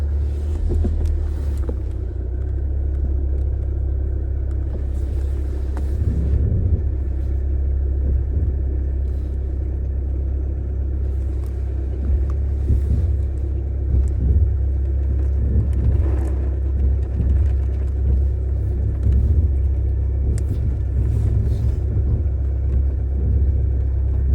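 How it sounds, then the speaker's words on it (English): A car rolls slowly while being parked, its engine a low steady rumble with faint rain-like hiss and a few soft knocks, heard from inside the vehicle. "I'm just parking my car."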